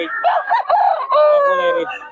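A gamecock rooster crows close and loud, its long drawn-out call rising and falling over about two seconds, with a few short clucks and scraps of voice mixed in at the start.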